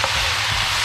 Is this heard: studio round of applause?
no